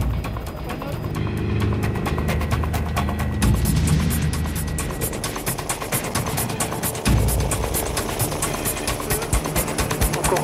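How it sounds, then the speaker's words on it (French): A gendarmerie mountain rescue helicopter flies toward the summit of ski slopes at about 3000 metres, its rotor giving a loud, rapid, steady chopping beat over a heavy engine roar. "l'hélicoptère se révèle indispensable pour se rendre au plus vite au"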